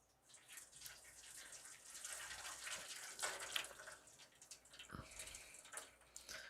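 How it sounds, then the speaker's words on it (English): Old soup is poured out of a container in a steady, soft liquid stream. The faint splashing and trickling continue for several seconds, with a small thud partway through. "Let's pour this out,"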